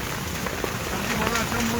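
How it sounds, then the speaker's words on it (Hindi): Heavy torrential rain pours down in Galiyat, Pakistan, a dense steady roar of water with a voice speaking over it. "आज वाकई गलियात में तेज़ मूसलाधार बारिश हो रही है।"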